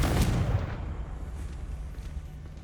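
A Confringo fire spell blasts in the Hogwarts Legacy video game as a loud, deep boom that rumbles and slowly fades over a couple of seconds, with no voices.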